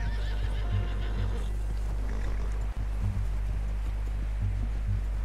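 A horse whinnying in Red Dead Redemption 2, a clear neigh standing out over a steady low drone and light ambient sounds, fairly close and loud.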